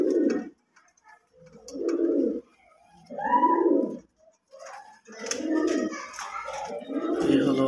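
Pigeons kept in a loft coo in soft, throaty bursts, several separate calls rising and falling in turn, close and clear against a quiet background.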